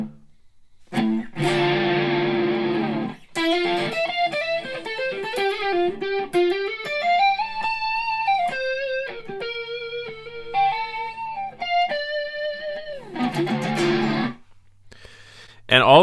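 An Enya Sonic guitar plays through its distorted presets, with gritty sustained notes and melodic phrases that bend and step up and down, separated by brief silences and ending in a dense burst of strummed distortion.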